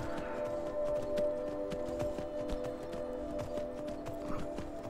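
Horse hooves clopping steadily on a steep mountain trail in Skyrim, a faint rhythmic patter of steps under a constant background drone, with no talking.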